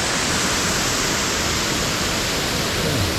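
Viking falls is running high, and the roaring water makes a dense, steady hiss with no gaps, loud and close, with nothing else heard over it.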